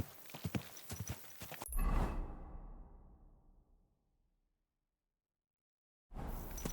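Horse hooves clip-clopping in the medieval role-playing game Kingdom Come Deliverance 2, a quick run of close hoof beats ending in a heavy thud and fading rumble, then a break before more sound resumes.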